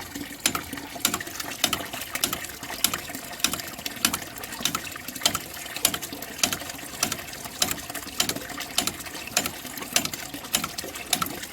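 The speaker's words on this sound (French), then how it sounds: "à chaque coup, il y a une belle bulle d'air qui monte" Air bubbles rise through water after a plug is removed, giving a regular series of gurgling pops and glugs, one roughly every half second, close and fairly quiet, with no voices.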